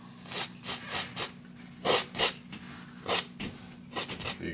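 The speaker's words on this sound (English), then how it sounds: "Scrape away the excess paint." Painting knife scraping excess oil paint off a canvas in a landscape painting session, a series of short rasping strokes in uneven rhythm, close and fairly quiet with no talking.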